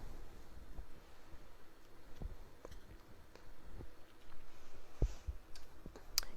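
Light taps on a device's touchscreen or keys while a library card number is entered, a scattered series of soft, irregular clicks spread over several seconds against a quiet room background.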